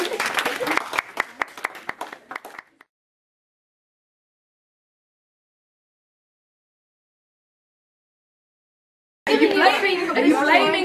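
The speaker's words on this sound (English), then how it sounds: "Can I have a round of applause, please?" An audience at a student event claps and cheers for the next group, with lively chatter and laughter. A long silent gap splits the clip, and a second burst of applause and crowd noise follows.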